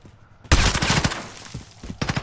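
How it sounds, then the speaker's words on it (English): Rapid bursts of gunfire in a Call of Duty tournament match, search-and-destroy style bomb-site round, starting abruptly after a quiet moment and crackling loudly for nearly two seconds, then a fresh burst at the end. "Getting peppered down with shots"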